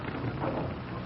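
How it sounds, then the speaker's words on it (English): Rain falls steadily as a radio drama storm effect, a dense wash of hiss with a soft swell of distant thunder beneath it and no voices. "Outside, it started to thunder. Rain's starting, man."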